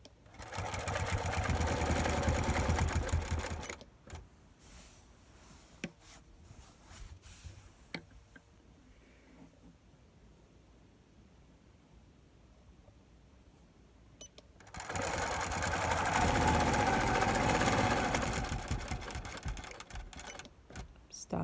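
A sewing machine doing free-motion quilting on a Cutie frame runs in loud, rapid bursts of stitching at the start and again near the end, separated by a long, nearly quiet pause.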